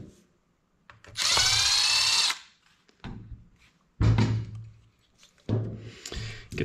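A power tool backing bolts out of a turbo during a rebuild of a 2015 Ford 3.5L EcoBoost turbo with a CRP billet assembly: a long whirring burst, then three shorter bursts separated by pauses, close up.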